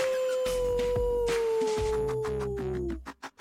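A voice imitating a coyote howl: one long, sustained wavering tone sliding slowly downward, followed by a few short breathy yips at the end.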